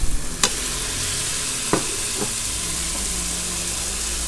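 Meat sizzles loudly as it browns in a hot pan for an Egyptian dish, a dense, steady hiss broken by a few sharp utensil clinks near the start and middle.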